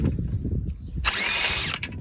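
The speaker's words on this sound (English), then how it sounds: "I'm using the lowest power setting on the impact tool" An impact tool on its lowest power setting fires one loud, rattling burst of under a second as it tightens nuts on the front control arm of a 2014 Kia Sportage 2.0 CRDI. Quieter handling noises come before it.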